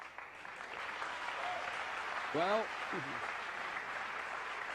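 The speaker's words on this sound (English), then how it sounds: "they were applauding the combination and the fact that the other ball went in as well" Broad, steady applause from a pool hall audience at a professional 2002 World League final rolls on throughout after a combination shot, while a commentator speaks briefly over it.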